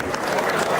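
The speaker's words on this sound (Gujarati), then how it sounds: "એકવાર જોરદાર તાળીઓથી વધાવીએ એમને." A gathering at a community election event breaks into a short burst of dense, continuous clapping from a crowd, loud and close throughout.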